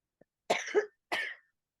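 Two sharp coughs from smoking a joint, close and fairly loud, the first with a rough double burst, followed by silence.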